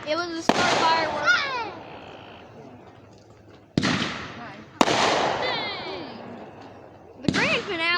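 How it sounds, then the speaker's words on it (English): Fireworks at a grand finale burst in loud, sharp bangs: two clusters of cracking reports with whistling, crackling trails fading between them. A dog and a person add faint background noise. "They're shooting left and right. They're going bang, bang, bang, bang."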